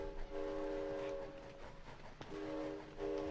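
A train in the video game It Takes Two sounds a sustained horn-like tone in two bursts over a low rumbling background, fairly quiet and without speech.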